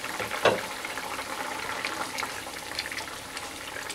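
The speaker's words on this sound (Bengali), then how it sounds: "3 থেকে 4 মিনিটের জন্য আমি ফুটতে দেব।" Egg omelette curry with potatoes bubbling in a pan on the stove, a soft steady simmer with faint popping and hissing, close and unaccompanied by talk.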